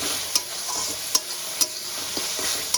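Spices with ginger and garlic paste being sautéed for chicken curry, a steady sizzle broken by several sharp scrapes of a spoon against the pan, close and alone.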